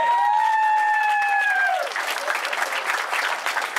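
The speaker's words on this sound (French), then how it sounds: "merci encore de l'applaudir très très fort, Sarah Storey." A crowd bursts into sustained applause for a stage winner of a 2014 women's cycling race in Radenac, Brittany. The clapping follows a brief amplified voice and continues steadily to the end.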